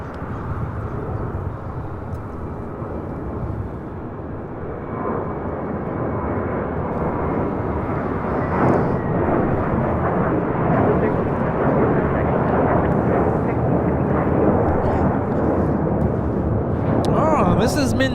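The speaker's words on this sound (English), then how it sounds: "taking off to Newark. It's JetBlue 1374, freshly painted on this A321." A freshly painted JetBlue Airbus A321 jet takes off for Newark from LAX, a loud, sustained engine roar that swells and stays heavy and rumbling for most of its length.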